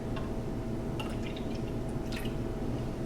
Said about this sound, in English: I'm gonna pour about 1/3 cup of that into the water.